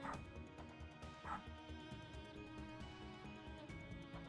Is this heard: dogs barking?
yes